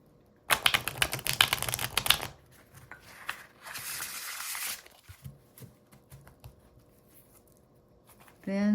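Tarot cards are shuffled by hand in quick riffling bursts, a crisp rapid flutter up close with a quieter softer shuffle afterward and scattered small handling noises between.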